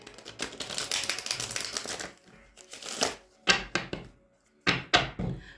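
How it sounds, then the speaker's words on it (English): Cards are shuffled up close in quick riffling bursts, a long flutter followed by several shorter snaps and pauses. "get you some good shuffles in"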